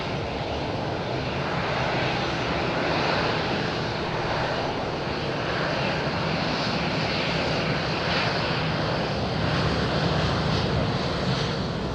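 A passenger airplane's engines roar steadily at Madeira Island Airport during takeoff, a loud, broadband, sustained rumble that holds without a break.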